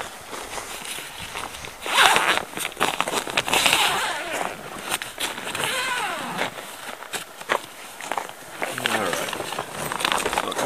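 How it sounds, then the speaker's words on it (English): A zipper on a homemade snowmobile cargo box, built for ice fishing, is pulled open in several quick rasping bursts with rustling fabric close by, and someone talks through much of it. "Zips open, right?"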